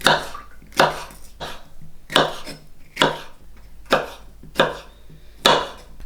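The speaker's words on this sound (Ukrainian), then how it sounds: "Перець нарізаю соломкою." Firm, evenly spaced knife chops on a cutting board, about eight strokes at a steady rhythm as a pepper is cut into strips.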